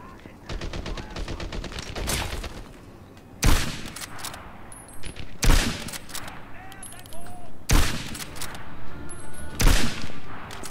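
Gunfire in the video game Medal of Honor: Airborne, set in a factory complex: loud, sharp shots and rapid bursts ring out repeatedly over a steady backdrop of battle noise.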